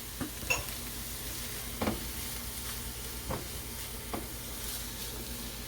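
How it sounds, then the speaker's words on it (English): Salted shallots softening in a pan, a soft continuous sizzle and hiss with a few light stirring scrapes and clicks at intervals, no voices. "the salt is going to soften the onions, or shallots I should say"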